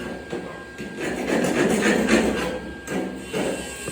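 Slag being chipped off a fresh steel weld, a quick series of scraping and tapping knocks up close, fairly loud and irregular, with no talking over it.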